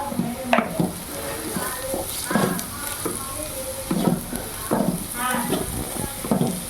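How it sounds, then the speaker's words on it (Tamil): Vegetable stuffing with pepper powder being sautéed in a pan for wheat-flour puffs, a steady sizzle under repeated scraping stirs that come about once a second. "மிளகு பொடி கொஞ்சம் போட்டுக்கிட்டு நல்லா வதக்கிடும்."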